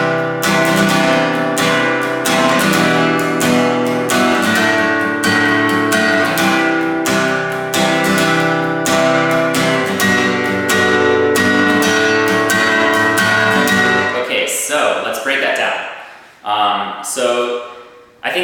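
Steady acoustic guitar strumming of a fast-paced pattern, with even repeated down and up strokes ringing loudly for a long stretch before trailing off into a brief quieter pause.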